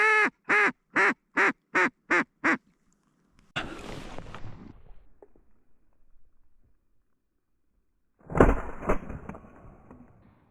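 A burst of rapid quacking from ducks on a duck hunt rings out in short regular pulses, followed by later flurries of rustling, splashing noise.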